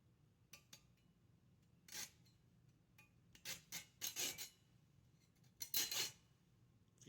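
A small hand saw makes short, sporadic rasping strokes through a rivercane arrow shaft, with faint pauses between bursts and a quiet background.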